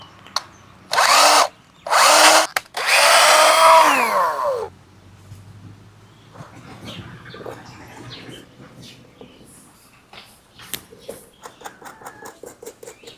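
A power drill bores holes in a bicycle pedal, whining loudly in three close bursts of rising and falling pitch, the last one longer, followed by faint clicks and handling noises.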